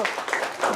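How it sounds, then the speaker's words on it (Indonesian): A classroom of students gives a short burst of applause after a group presentation. The dense, moderately loud clapping lasts under a second. "silakan kasih tepuk tangan dulu"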